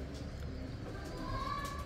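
A big-headed pigeon coos softly nearby, a short low cooing over faint background noise, with a voice murmuring quietly.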